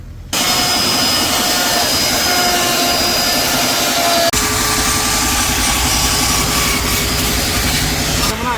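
A wood carving machine, likely a CNC router, cuts a Radha and Krishna relief into a wooden panel, giving a loud, steady whine and drone that runs continuously with a brief jolt partway through and no talk.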